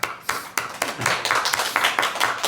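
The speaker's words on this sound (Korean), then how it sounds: "네, 우리 주님 앞에 영광의 박수 드리겠습니다" A church congregation claps together in a brisk, dense burst of many hands that builds into an uneven patter and keeps going for a couple of seconds.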